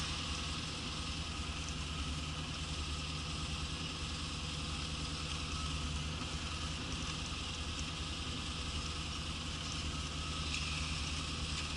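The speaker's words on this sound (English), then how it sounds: "It's slowly dying down. For the most part, it'll idle in neutral" An old Mustang engine idling in neutral, a low, steady rumble with faint vibration, heard at a distance and fairly quiet throughout, with no voices.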